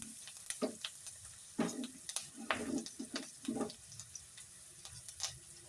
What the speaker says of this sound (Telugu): కట్ చేసుకున్న పచ్చిమిర్చి, పచ్చిమిర్చి కొంచెం వేగిన తర్వాత కరివేపాకు